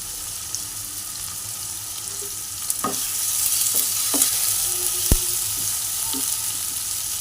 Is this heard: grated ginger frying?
yes